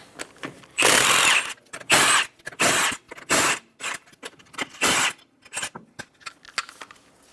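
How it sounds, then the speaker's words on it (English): An impact tool with a 19mm socket spins off the five lug nuts of a Chevrolet Sonic's front wheel in a series of short, loud, close bursts separated by brief pauses, tapering to quieter clicks and rattles. "Using a 19mm socket, remove the 5 lug nuts."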